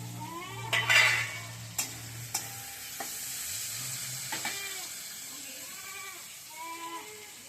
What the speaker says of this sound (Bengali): এবার আমি দিয়ে দেবো টমেটো কুচি।